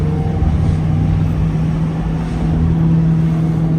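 Mazda MX-5 Miata four-cylinder engine with a Goodwin Racing exhaust, a steady loud drone holding at a constant pitch throughout, heard close up from inside the car with no talk.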